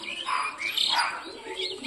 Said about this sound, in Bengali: বাড়ির পায়রা বাড়িতে ফিরে এসছে